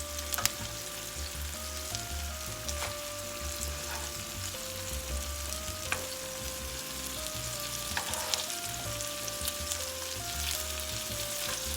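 Meatballs fry in a pan with a steady, dense sizzle and crackle, occasional utensil scrapes and clicks as they are turned, heard close and continuous without talk.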